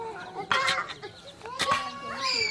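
A voice imitates a hen clucking in a couple of short, nasal, jerky bursts, close and fairly loud, with brief pauses between them.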